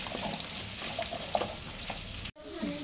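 Potato and carrot frying in a pan with tempering spices, a steady close sizzle with soft stirring scrapes throughout, briefly cut by a short gap near the end before the frying resumes.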